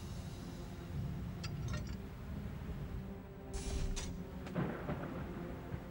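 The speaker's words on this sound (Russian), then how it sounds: "Это все гроза." A thunderstorm rumbles with low, rolling thunder under a steady wash of rain, a few sharper crackles rising partway through, fairly faint overall.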